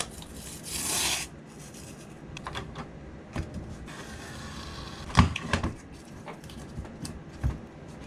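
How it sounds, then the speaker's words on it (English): Guitar frets marked with blue Sharpie are leveled with 320-grit sticky sandpaper on a leveling beam, giving quiet scraping strokes and rubs at an uneven pace, close and faint, with no talking. "We're going to put some sticky sandpaper on here and turn these frets blue and level them out."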